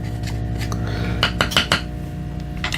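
Jars of jig head paint being stirred, producing a few bright clinks and taps of a stirrer against glass, close and loud, clustered in the middle of the clip.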